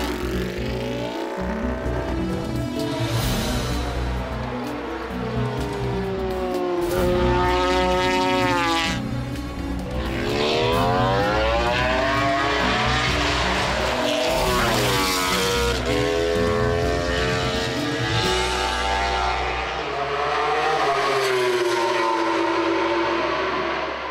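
A Suzuki 800cc V4 MotoGP racing motorcycle tests at the Valencia circuit in 2011, its engine screaming through repeated rising and falling gear changes as it passes, loud and sustained with sweeping pitch shifts.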